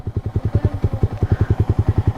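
A Yamaha XSR 155 motorcycle idles close by, its single-cylinder engine thumping in a steady, even pulse of regular beats that carries loudly and alone without interruption.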